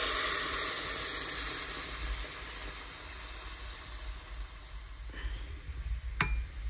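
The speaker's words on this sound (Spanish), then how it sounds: "Ahora aquí tengo en esta cazuela un poquito de aceite y lo voy a guisar" Ground chile sauce frying in a little oil in a clay cazuela, a broad, steady close sizzle that eases slightly over time, ending with a couple of light clinks and a stirring scrape.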